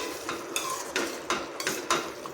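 A capsicum curry in gravy is stirred in a pan, giving several distinct metallic scrapes and clinks from a spoon against the pan at an uneven rhythm, close and moderately loud, with no voices.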